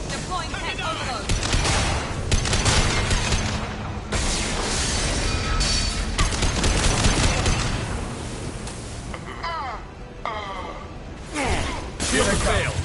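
Gunfire and explosions in a Mass Effect 2 firefight with an exploding fuel tank: dense bursts of shots and heavy booms, with voices calling out over the combat.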